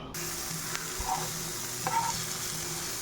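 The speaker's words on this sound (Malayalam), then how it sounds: "ഗീ സ്പ്രെഡ് ചെയ്ത് പാനിലേക്ക് പനീറിട്ട് ഒന്ന് ഫ്രൈ ചെയ്തെടുക്കാം." Paneer shallow frying in ghee in a pan over medium heat, a steady close sizzling hiss with a couple of faint clinks of a utensil, quiet and with no talking.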